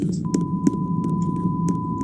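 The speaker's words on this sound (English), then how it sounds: "So literally if I beeped it out, it would sound like this" A censor beep sounds as one steady pure tone, starting just after the clip opens and lasting to the end over low muffled rumble and faint clicks.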